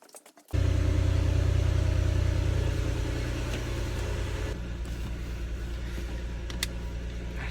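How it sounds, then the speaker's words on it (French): Cabin of a car on the move: a steady, loud low engine and road rumble fills the interior throughout, easing slightly partway, with a few faint clicks. "Là je suis dans la voiture"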